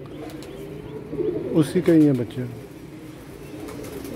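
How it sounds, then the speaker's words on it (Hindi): A black pigeon at a home loft gives a short burst of deep warbling coos, close by, while someone talks over it. "काला कबूतर है"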